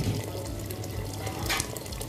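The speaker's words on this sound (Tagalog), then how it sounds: "Lagay tayo ng mainit na tubig." Hot water poured into a pot while cooking a Filipino dish, a continuous close splashing pour with a brief brighter surge partway through.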